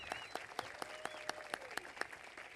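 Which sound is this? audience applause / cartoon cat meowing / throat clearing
audience applause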